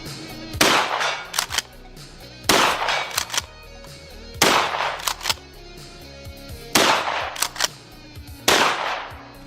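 A shotgun fires 3-inch Magnum slugs outdoors: five loud, sharp blasts at roughly two-second intervals, each followed by a brief ringing tail and small clatters, with no talking.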